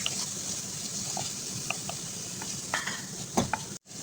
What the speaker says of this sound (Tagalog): Halu-haluin natin.